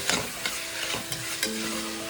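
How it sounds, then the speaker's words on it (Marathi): Stirring and scraping rajma in masala in a hot pan with a soft sizzle underneath, several distinct scrape strokes at a steady pace. "आता छान अशी ती मसाल्यामध्ये परतून घेणार आहोत"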